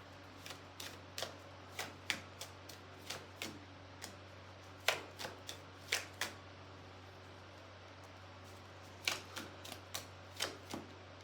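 Tarot cards being shuffled from a second deck: soft, scattered flicks and taps in uneven clusters, quiet and close, with a steady low hum in the background and no speech.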